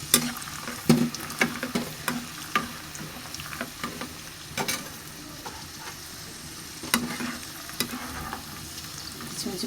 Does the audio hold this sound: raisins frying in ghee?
yes